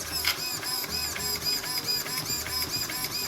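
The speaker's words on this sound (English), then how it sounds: "I'd let you guys check out this servo in action." Steering servo of a Losi Baja Rey 2.0 RC truck whirring back and forth in a steady, repeated high-pitched electric buzz, close and fairly quiet with no talking.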